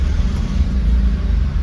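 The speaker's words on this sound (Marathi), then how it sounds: "आता ट्रॅफिक लागला आहे जो." Road traffic on a local street, a steady low engine rumble of passing cars close by, continuous and fairly loud with no talk over it.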